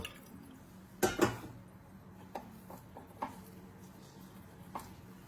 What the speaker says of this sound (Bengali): এবার এই ছানাটাকে 3 থেকে 4 বার আমি ভালো করে খাবার জল দিয়ে ধুয়ে নেব।